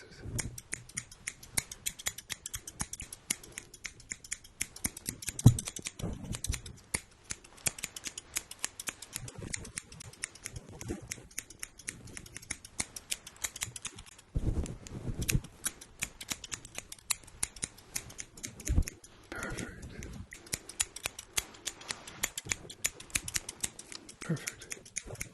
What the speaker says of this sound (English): ignore the scissors